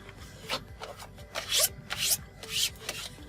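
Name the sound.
squeegee smoothing vinyl wrap film on Tesla console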